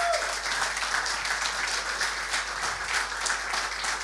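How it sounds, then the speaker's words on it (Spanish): A crowd at a live podcast recording applauds continuously, a dense wash of clapping at moderate distance with no talking. "Un aplauso para esa gente que hizo posible esto"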